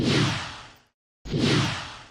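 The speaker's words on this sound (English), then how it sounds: "What are all my other whooshes?" A whoosh sound effect played twice, each a loud, airy swoosh that fades out, separated by a moment of silence.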